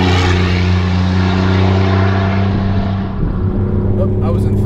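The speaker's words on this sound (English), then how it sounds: "if you want to hear what it sounds like with the cutouts open, here's a drive-by shot where it's definitely open" A modified 2002 Chevrolet Impala with its exhaust cutouts open roars past in a drive-by, a loud, deep, droning exhaust note that swells and then fades as the car passes.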